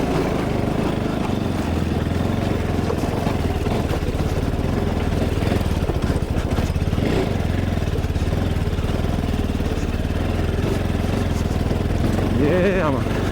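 A motorcycle on the steep mountain track from Lo Manthang to the Korala border in Upper Mustang labours uphill, its engine droning loudly and unevenly throughout, with voices talking over it at times.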